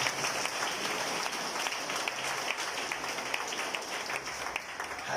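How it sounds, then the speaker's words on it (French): Church congregation applauding together at a French-language worship service, a dense, steady wash of many hands clapping that holds at an even level throughout with no voices standing out. "par l'Éternel, nous applaudissons."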